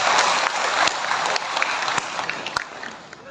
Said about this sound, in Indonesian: Tepuk tangan mau dikit.